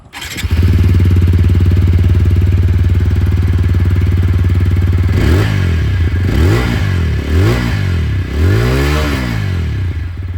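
Exhaust of a 2026 TVS Apache RTR 160 4V, a 160cc motorcycle, idling loud and close with a steady throbbing note before being blipped through a series of rising and falling revs.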